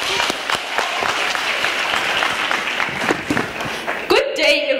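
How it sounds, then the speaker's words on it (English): Steady audience applause at a secondary school launch event, sustained and full from a seated crowd, then stopping abruptly near the end as a voice begins speaking. "Please welcome her with a big round of applause."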